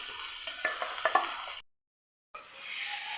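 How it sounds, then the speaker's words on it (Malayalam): Crushed beef fries in a pan over raised heat while a spoon stirs it, giving soft scraping clicks over a steady sizzle, with a short silent gap before the hiss returns; close and fairly quiet. "അപ്പോൾ ഇതാ നമ്മളിതിലേക്ക് ബീഫും കൂടെ ചേർത്ത് ഫ്ലെയിം ഒന്ന് കൂട്ടി വെച്ചിട്ടുണ്ട്"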